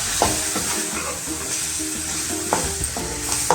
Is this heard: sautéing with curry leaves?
yes